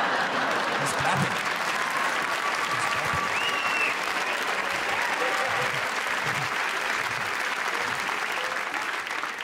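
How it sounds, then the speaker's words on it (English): An audience claps steadily in a packed room, a dense sustained roar of applause heard at moderate distance with faint crowd noise underneath. "Someone starts clapping, I have to dance."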